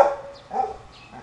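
Dogs give two or three short, close barks and yips in quick succession inside a fenced warehouse area.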